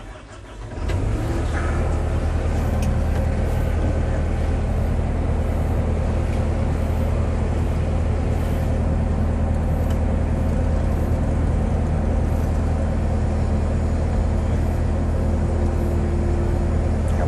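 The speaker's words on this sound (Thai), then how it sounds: "ขออนุญาตติดเครื่องนะครับ" A 2013 Caterpillar CAT 311D RR excavator with 3,110 hours cranks and fires after about a second, then settles into a steady, loud, close diesel idle that runs uninterrupted.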